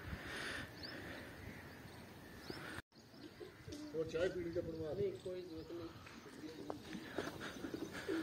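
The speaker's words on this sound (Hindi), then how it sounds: "यहाँ पे इन लोगों ने कबूतर वगैरह रखे हुए हैं" Soft, repeated cooing of pigeons kept in a village with mud houses, with a few chirps and people talking in the background.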